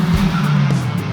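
A 1990s turbocharged hot hatch roars through a road tunnel, its loud exhaust note booming and echoing with sustained tonal drone and sharp fluttering bursts, heard close and alone.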